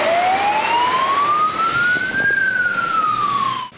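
A fire station siren wails steadily in Cherkasy, its pitch gliding slowly upward then easing back down, loud and continuous with no voices over it.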